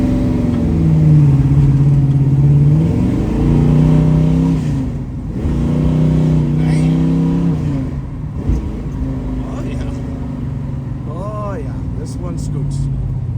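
A 1968 Chevrolet Camaro engine idles and then revs up and down in several swells, close and loud, and later a few higher squeals and clicks.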